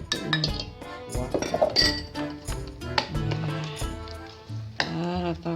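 A spoon stirs a banana srikaya mixture in a pot, giving repeated bright clinks and scraping knocks at an uneven rhythm, close up, with a voice talking throughout.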